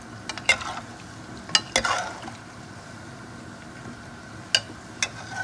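Puff puff dough balls frying in hot oil, a quiet continuous bubbling hiss broken by a handful of sharp pops and clinks of a utensil against the pan.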